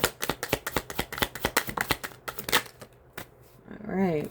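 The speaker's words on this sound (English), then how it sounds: "Let's get some cards." A deck of tarot cards is shuffled close by in a rapid run of crisp riffling snaps, slowing and fading before a voice briefly speaks at the end.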